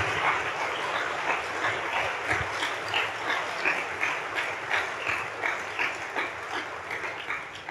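A church congregation applauds during a Spanish-language service, sustained, even clapping from many hands filling the whole stretch at moderate loudness, with no voices.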